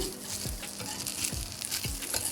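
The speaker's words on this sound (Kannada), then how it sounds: "ಇದನ್ನು ಕೂಡ 2 ಕಡೆ ಕಾಯಿಸಿ ಚೆನ್ನಾಗಿ ಬೇಯಿಸಿ ತೆಗೆದರಾಯಿತು." A tender coconut dosa sizzles on a hot pan with a steady frying crackle, punctuated by a few soft scraping strokes, close and without speech.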